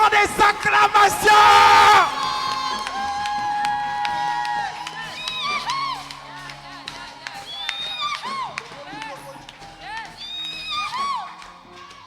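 Cheering and acclamation from a church congregation during a praise and worship service, with an intense burst of shouting and yelling at the start that settles into scattered whoops and calls amid voices.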